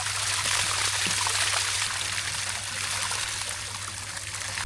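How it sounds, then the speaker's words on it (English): Water drains steadily from an unplugged ranch stock tank, a continuous close trickling and rushing flow that stays even throughout with no talk. "we'll just pull the plug and let it drain and freshen it up for them"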